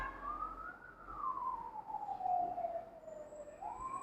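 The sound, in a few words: fire engine sirens departing fire station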